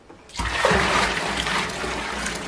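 A tap gushes on after a short quiet moment while dishes are being washed, a loud, steady, close rush of running water that continues unbroken to the end.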